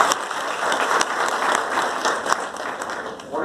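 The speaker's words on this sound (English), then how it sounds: "Congratulations and a big round of applause for all of you all." An audience at a postgraduate welcome ceremony applauds, a dense, steady wash of many hands clapping that holds for several seconds before tapering slightly at the end.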